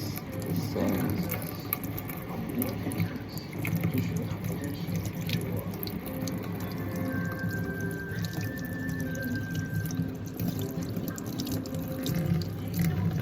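Tap water running steadily over a Google Pixel phone being washed, a continuous close splashing stream with shifting patter as the phone is turned in the flow.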